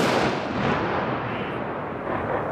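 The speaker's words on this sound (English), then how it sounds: "Ready. Aim. Fire." Ceremonial rifle volley at a police memorial, heard as a dense, sustained roar of gunfire blending into one continuous loud blast with no clear gaps between shots.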